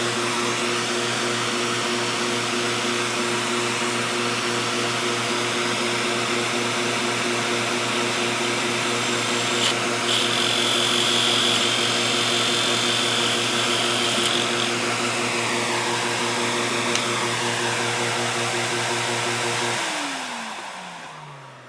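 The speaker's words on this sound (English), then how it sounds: "bring my vacuum up, turn my vacuum on" A vacuum cleaner runs loud and steady with a constant droning hum, then powers down and winds off near the end.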